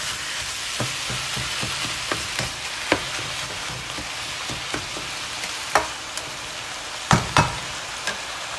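Chicken meat fries in a pan with a constant close sizzle, punctuated by scattered pops and a few sharp clinks and scrapes of a utensil.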